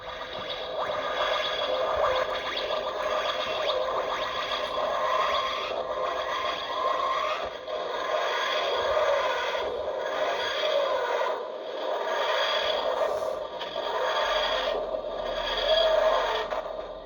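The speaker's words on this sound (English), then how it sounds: "There you go, a longer materialization sound there" An electronic Doctor Who TARDIS toy plays a long materialization effect, a steady wheezing, groaning whoosh that swells and fades in slow repeated waves with no talking, as a thunderstorm carries on in the background.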